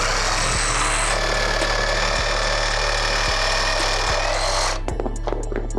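Dnipro-M DRS-201BC cordless reciprocating saw cutting through a nail embedded in a wooden beam: a loud, continuous, harsh buzzing cut with a steady low hum and periodic thumps, stopping abruptly near the end before a few faint clicks.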